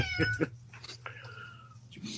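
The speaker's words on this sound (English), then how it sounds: "Is that a cat?" Cat meowing indoors, a few distinct meows close by, with people talking around it.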